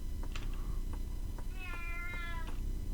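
A cat meows several times in a video game, the calls drawn out and tonal, sounding near against a steady background hum with no talk.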